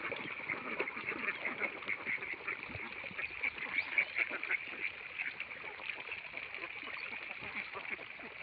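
A dense flock of farm ducks quacks continuously, many overlapping calls forming a steady, busy chatter at moderate distance with no break.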